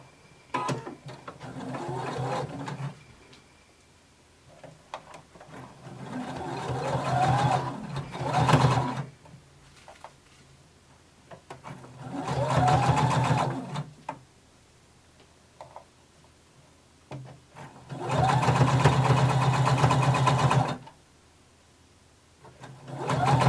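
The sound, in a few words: sewing machine stitching close to fabric edge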